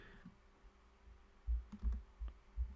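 A computer keyboard is typed on briefly, a short run of about four soft, close key clicks after a near-silent start, entering numbers into an image-size field in Photoshop.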